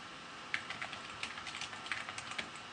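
Steady typing of text on a computer keyboard, a close, even run of light clicks with brief pauses over a soft background hiss and no voices.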